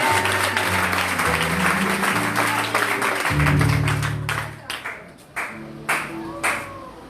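A church congregation applauds together, dense clapping filling the room with a voice talking over it, then thinning into a few scattered claps.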